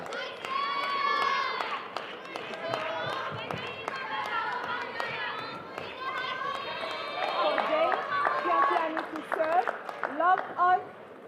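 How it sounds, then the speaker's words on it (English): Table tennis crowd at a WTT Contender event in Taiyuan shouting and cheering during a women's round of 16 match, a loud sustained roar of many voices with bursts and swells building toward the end. "Big shouts for both women"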